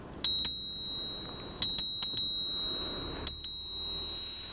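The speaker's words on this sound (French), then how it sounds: "La sonnette fonctionne bien aussi." The bell on a FLEBI Supra 3.0 folding electric bike rings in three separate bright double dings, each leaving a clear sustained metallic tone that fades, over quiet background.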